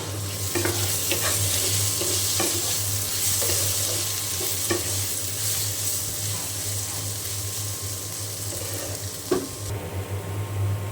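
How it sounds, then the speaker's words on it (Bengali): Pointed gourd and potato frying in a pan make a continuous sizzle with scattered stirring clicks and scrapes and a low steady hum underneath. "আর এখানে আমি পটল আর আলু ভেজে নিচ্ছি।"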